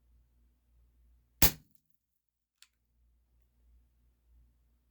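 A ZZ75D BB gun fires one Air Venturi Dust Devil BB: a single sharp, loud crack followed about a second later by a faint tick of impact, with near silence around it.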